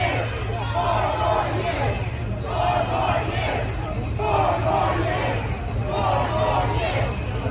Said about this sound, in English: Let's show this clip of the crowd outside in Atlanta.